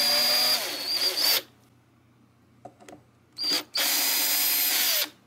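A power drill whirs loudly in two bursts while backing rusted screws out of a 2013 Gibson 335 guitar, with a quiet gap and a few small clicks and taps between the runs.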